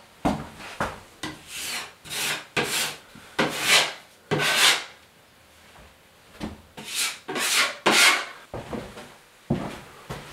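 Sanding a patched interior wall before priming: a series of rhythmic, scratchy rubbing strokes, close and fairly loud, each burst lasting about half a second with brief pauses, no talking.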